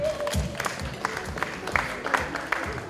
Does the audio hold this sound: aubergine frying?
no